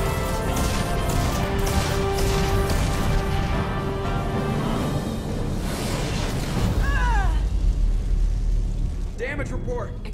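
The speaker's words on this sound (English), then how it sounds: "explosion in main engineering" An explosion tears through the main engineering section of a spaceship in the Mass Effect 2 video game: a sustained loud roaring crash and rumble that fades into lower booms, with a voice speaking over it.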